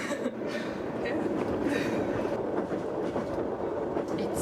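A passenger train rolls along its rails with a steady rumble and faint rhythmic clatter, heard from inside the carriage under people's talk.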